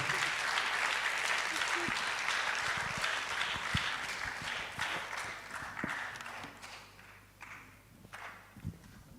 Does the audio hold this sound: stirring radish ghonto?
no